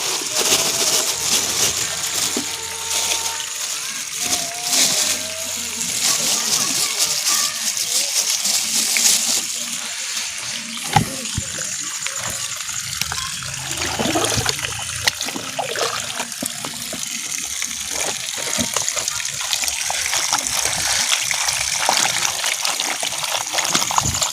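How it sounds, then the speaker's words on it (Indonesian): Freshly picked wild mushrooms being washed by hand in water: close, continuous splashing, trickling and dribbling with sloshes and a few louder splatters, running steadily throughout. "Oke, kita cuci jamurnya teman-teman. Cuci dulu biar bersih."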